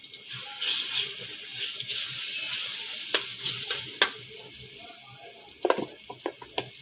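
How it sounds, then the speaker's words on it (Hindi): Steady crackling sizzle of ground garlic frying in hot ghee, with a few sharper pops and clinks of a utensil stirring the pan. "एक पाव के करीब मैंने घी लिया है, और उसमें मैंने 3 टेबलस्पून लहसुन पीस के डाल दिया।"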